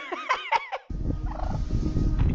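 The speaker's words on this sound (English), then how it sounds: "I've got a turkey attacking my cruiser" Wild turkey gobbling beside a police cruiser, a rapid burst of loud warbling gobbles followed by rustling, thumping handling noise, heard close on a body camera.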